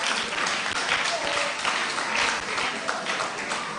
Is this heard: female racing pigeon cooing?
no